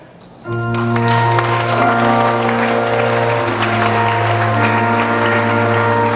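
Wedding guests at The Riverside Hotel applaud as the bride enters on her father's arm, a steady wash of clapping running continuously beneath loud, sustained processional music.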